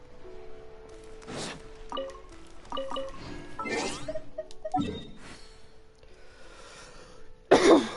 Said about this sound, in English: I will attempt to not deafen everyone by coughing, but no guarantees.